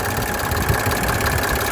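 A 1987 Mercedes 300SDL turbodiesel engine in excellent condition idles steadily up close, a dense continuous rumble with a faint regular clatter and no voices over it.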